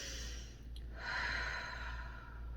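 A single slow, deep breath during a meditation session, a soft, airy exhale swelling and fading over a low, steady background hum.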